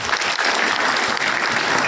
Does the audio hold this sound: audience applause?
yes